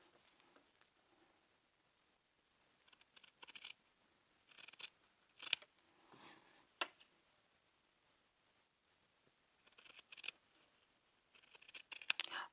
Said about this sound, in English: We're going to trim our seam allowance.